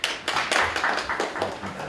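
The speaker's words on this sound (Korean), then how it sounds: "우리 박수로 맞아주시기 바랍니다" An audience at a policy debate applauds to welcome a speaker, a short burst of close, dense clapping.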